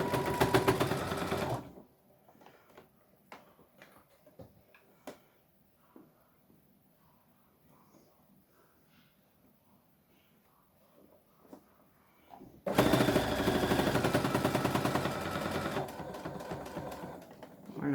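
Sewing machine stitching a reinforcing stitch to finish a seam on a fabric face mask, running loud and steady at the start and again at the end, with a quiet stretch of small handling sounds between.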